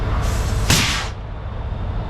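A loud, brief burst of compressed air hisses from a disconnected truck air supply line during a heavy tow, cutting off after about half a second over a steady engine idle.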